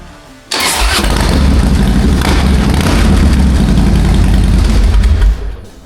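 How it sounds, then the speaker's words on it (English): Harley-Davidson CVO Fat Bob motorcycle engine cranks and fires after a brief quiet start, then settles into a loud, steady, deep rumbling idle held close by for several seconds before fading slightly at the end. "I think we should fire up the bike and see how she sounds."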